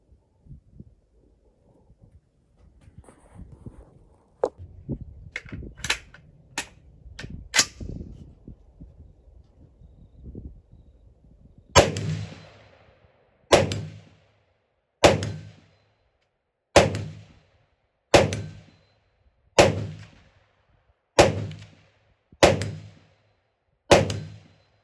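Rifle fitted with a SOLGW A5 buffer kit firing single test rounds, a run of sharp, loud shots evenly spaced about a second and a half apart, after a stretch of softer handling clatter and knocks.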